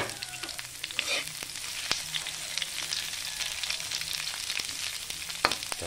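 Bitter gourd (ampalaya) frying in a pan, a steady close sizzle with scattered pops and light scraping ticks of a utensil, no speech.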